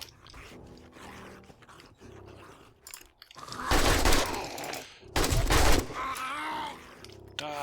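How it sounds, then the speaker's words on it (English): Machine gun bursts from the 7 Days to Die video game, fired at a feral zombie at close range, come as two loud, dense volleys, with quieter growls and game sounds in between. "This MG's not the greatest at short range, as you can see."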